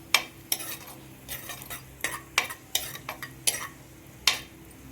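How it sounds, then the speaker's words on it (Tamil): Cashews and raisins fry in a pan for carrot halwa, heard as a soft sizzle under repeated sharp scrapes and taps of a spoon against the metal. "இப்போ வந்து முந்திரி பருப்பு திராட்சை போட்டாச்சு."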